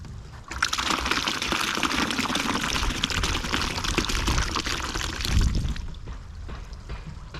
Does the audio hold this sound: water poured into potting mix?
yes